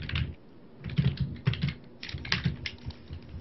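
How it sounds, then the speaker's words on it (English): Fast, busy clatter of typing on a computer keyboard, with irregular bursts of key clicks heard close up over a faint background hum. "a lot of typing going on here"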